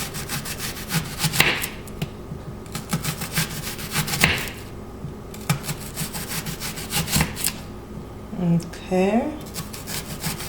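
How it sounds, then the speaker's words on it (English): A knife cuts onions into thin slices on a board, making a steady series of close, crisp chopping strokes with brief pauses, under occasional brief talk. "So I'll slice up the onions, really thin slices."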